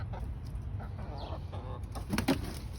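Chickens cluck softly nearby in a garden, with a short burst of louder clucking toward the end over faint background noise.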